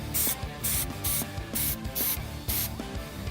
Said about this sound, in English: I like to spray this like sideways, like here, so you can really get that lip on the outside